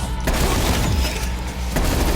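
The ARS rifle fires relentlessly in Call of Duty Zombies on Firebase Z, a loud, continuous clatter of shots with booming impacts filling the whole moment.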